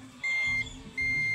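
A steady electronic multimeter continuity beep sounds twice while checking an electric fan, a sustained tone that cuts out briefly and then resumes, close and clear over faint background noise.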